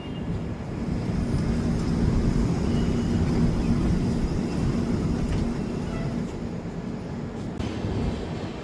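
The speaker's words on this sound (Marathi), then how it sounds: "तर फायनली ट्रेन बिलारघाट स्टेशनवर आली आहे 2 तास लेट" A train pulls into Bilarghat station as a steady, loud rumble of rolling wheels and carriages that lasts throughout, with no talk.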